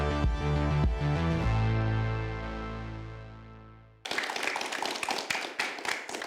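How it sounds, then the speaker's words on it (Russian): A sustained musical chord rings out and fades to silence, then audience applause breaks in abruptly, a brisk, close wash of many hands clapping that carries to the end. "Спасибо, аплодисменты."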